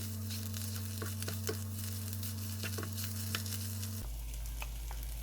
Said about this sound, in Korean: 쫀득하게 먹기 위해 중불에서 어묵을 충분히 볶아줍니다.